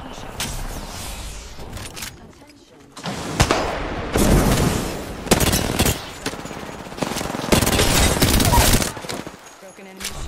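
Rapid automatic gunfire fills a round of the video game Apex Legends, in loud bursts broken by short pauses, with in-game weapon mechanisms clattering and a player's voice talking over the shooting.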